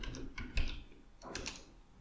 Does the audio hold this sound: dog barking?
no